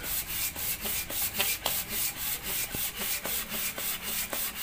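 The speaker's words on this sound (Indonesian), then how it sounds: "Nah, ini kita amplas seperti ini" Sandpaper rubs back and forth over the radiator cap of a Honda Vario Techno scooter, a close, rhythmic scratching in about a dozen regular strokes, each a brief rasp followed by a short pause.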